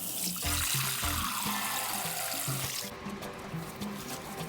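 Cold tap water running into a sink or bowl for soaking onions, a steady rushing stream under background music.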